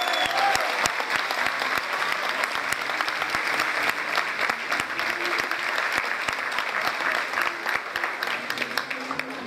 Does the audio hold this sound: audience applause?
yes